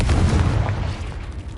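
A Confringo spell in Hogwarts Legacy goes off as one loud, close, booming explosion with a heavy low rumble that fades within about a second.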